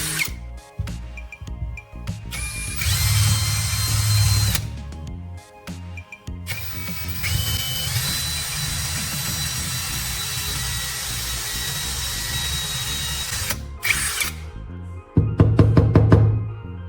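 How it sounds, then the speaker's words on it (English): A power drill bores angled holes into a wooden block in several bursts: a short start, a longer whine of several seconds, a long sustained run, then a final rough grinding spell, with brief pauses between. "Drill 2 angled holes at 45 degrees so the rods will lean toward each other."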